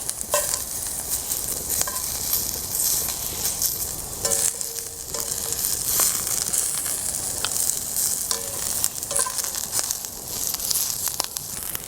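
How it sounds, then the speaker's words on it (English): Brussels sprouts sear in a pan over a campfire, a continuous close sizzle broken by scraping and clinking as they are stirred several times. "got a decent sear going on. Let's go ahead and give them a stir."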